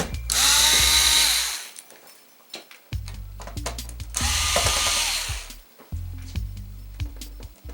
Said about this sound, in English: I'm just going to just take the little screws out on each side